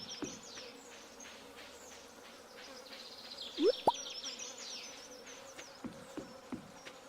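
Summer insects buzz in the Stardew Valley video game as a steady, dense drone, with a few brighter chirping sweeps rising briefly near the middle and short clicks toward the end.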